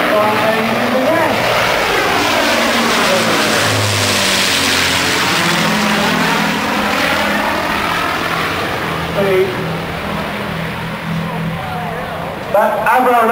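An Avro Lancaster bomber flies over, its piston engines a loud, continuous drone with a sweeping pitch shift as it passes, heard at an outdoor show and partly under someone talking.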